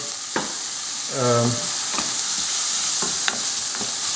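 Vegetables sweating in olive oil in a pan, giving a steady soft sizzle with a few sharp clicks and stirring scrapes, and one short tonal ring from nearby utensils partway through.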